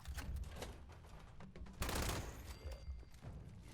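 Sustained bursts of heavy gunfire from a big automatic weapon in the Fallout 76 video game, loud and continuous with dense rapid shots and a brief heavier blast near the middle.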